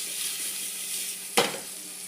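Small chunks of onion fry in hot oil for a chicken stew, a continuous close sizzle with one sharp clink of a utensil against the pot near the end.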